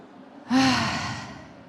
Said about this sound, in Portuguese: Inspira 3 vezes e solta o ar com força.